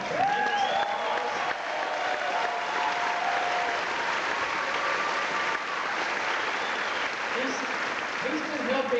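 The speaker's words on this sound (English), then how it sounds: "doesn't he deserve a tremendous applause?" Crowd at a political rally in Nashville applauds a musician, a dense, steady wash of clapping and some cheering that fills the whole stretch, with voices audible through it.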